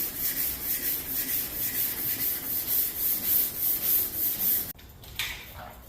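A repaired car door on a Cadillac hearse is block sanded after straightening, giving loud, close, rhythmic rasping strokes in an even back-and-forth pattern for nearly five seconds, then stopping abruptly before some quieter handling noise.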